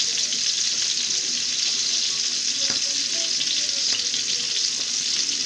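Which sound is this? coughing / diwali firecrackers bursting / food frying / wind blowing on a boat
food frying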